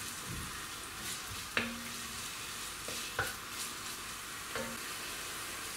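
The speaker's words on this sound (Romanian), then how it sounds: "lăsăm puțin să se călească" Nettles sauté in a pan with a steady, soft sizzle and crackle throughout. A few faint clinks of stirring break in now and then, heard close with no talking.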